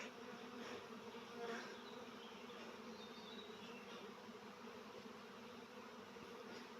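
A honeybee swarm, its queen already inside, crawls into a new improvised hive: a dense, steady buzzing of many bees fills the air close by, with no talk over it.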